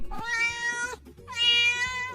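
Two drawn-out cat meows in an animated children's story, loud and close, one after the other with a brief gap and no talk.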